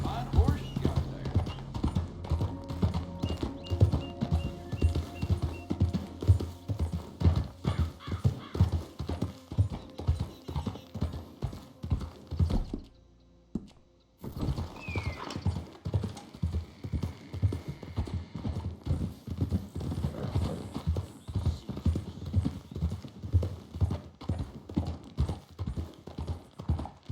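Horse hooves clip-clop in a steady, continuous rhythm in Red Dead Redemption 2, close and clear, with a brief pause midway before the walking resumes; occasional voices speak over the hoofbeats.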